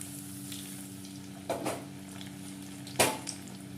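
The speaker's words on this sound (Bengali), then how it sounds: "এবার এখানে আস্তে করে এই আলুর স্ন্যাক্সগুলো ছেড়ে দেব কতকগুলো দিয়ে দিলাম দিয়ে ব্রাউন করে ভালো করে ভেজে নেব" Potato snacks are eased into hot oil over a medium-high gas flame, with two sharp bursts of sizzling as pieces go in against a faint, low frying bubble, all fairly quiet with no talk.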